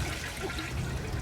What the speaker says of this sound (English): I just flushed a perfectly good eighth down the toilet because of you, April.